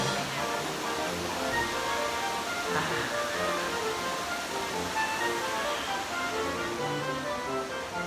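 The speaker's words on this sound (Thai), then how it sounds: "มันคือ เสียงของน้ำตกนั่นเอง" Steady, dense rushing of Lan Sadet waterfall on Doi Inthanon fills the scene, a constant broadband roar with no pauses or voices.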